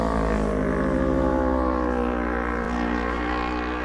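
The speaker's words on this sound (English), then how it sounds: "we got some bikes here coming across" Motorcycles pass by, their engines a loud, steady droning hum with a smooth pitch change as they go past.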